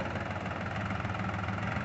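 A three-cylinder New Holland TT3 50 four-wheel-drive tractor engine runs close and loud with a steady low rumble while towing two larger tractors, holding at a raised throttle.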